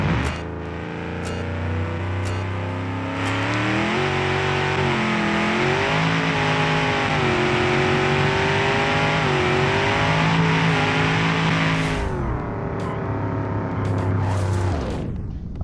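A 9.6 liter V8 turbo car with 1684 horsepower in BeamNG.drive, its engine roaring loudly through sustained acceleration with rising pitch, stepping through gear shifts before cutting off near the end.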